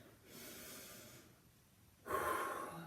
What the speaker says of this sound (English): Big breathing.